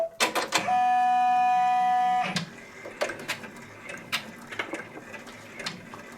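A Brother or BabyLock multi-needle embroidery machine hums with a steady mechanical whine for about two seconds as it starts stitching a placement line, followed by clicks and rapid ticking of the needle mechanism.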